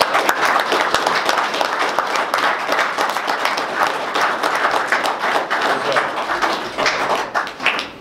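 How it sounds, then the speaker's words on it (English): Audience applause at a boxing press event, close and loud clapping with distinct individual hand strikes and occasional thumps, sustained throughout. "we've got to give them a round of applause because everyone wants to see this."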